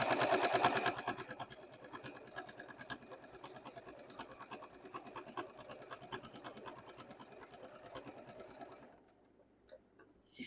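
A sewing machine double-stitching overalls runs as a steady rapid ticking for about nine seconds, loudest at the start, then stops, leaving a few faint clicks.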